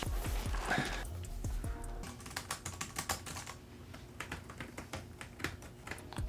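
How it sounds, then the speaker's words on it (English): Rapid, crisp clacking of keys on the full mechanical keyboard of an Alienware X17 R1 gaming laptop, close and fairly quiet, with an irregular typing rhythm and a few heavier strokes, no talking. "The model we got has a full mechanical keyboard. It definitely sounds a lot louder than my M17"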